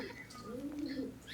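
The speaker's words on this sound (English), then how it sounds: "No, it's a horny pigeon." A pigeon coos in the background, a single soft, low rolling call swelling and fading over about a second, faint behind quiet room noise.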